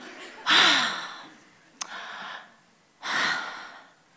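A voice imitates heavy breathing in three loud, close bursts, each a long breathy exhale with a brief click between the first two.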